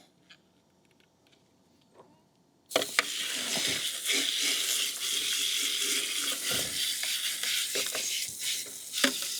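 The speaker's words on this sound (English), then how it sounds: "Let's get this pump hosed off." A hose sprays water to rinse off a small pump used for descaling a tankless water heater, a steady rushing hiss that starts abruptly after quiet handling noises and keeps going, close and fairly loud.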